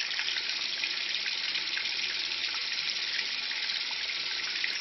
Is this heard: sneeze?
no